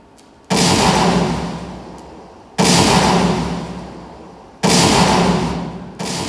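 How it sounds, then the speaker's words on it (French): Three heavy cannon salvos fire at regular intervals during a ceremony, each a loud boom that rolls out and slowly fades before the next, with a fourth starting at the end. "auxquelles répondent les salves des canons"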